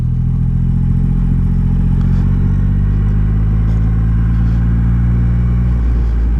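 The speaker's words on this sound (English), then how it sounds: "Hearing that exhaust crackle reminded me of just making some judgment on the exhaust sound" A Triumph Rocket motorcycle's engine and exhaust rumble continuously while riding, a deep, steady drone with a slight pitch shift near the end, loud and close with no voices.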